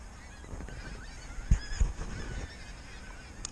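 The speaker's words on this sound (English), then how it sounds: "I'll apologise for the noise of the pink feet because they're very loud" Pink-footed geese honk loudly as a big flock on a frosty morning, a steady wash of overlapping calls with a couple of louder close bursts in the middle.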